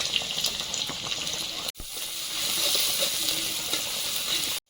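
Panch phoron spices with garlic and ginger paste fry in hot oil in a wok, giving a steady, close hissing sizzle that drops out for a moment and then carries on just as strongly.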